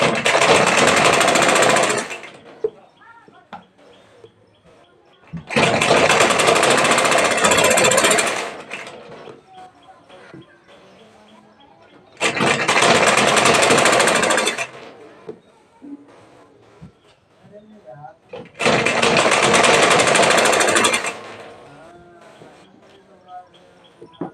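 A sewing machine stitches piping onto a blouse in four loud, close runs of rapid stitching, each a few seconds long. Quieter pauses separate the runs.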